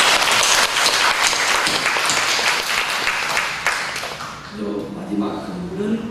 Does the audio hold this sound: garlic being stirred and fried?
no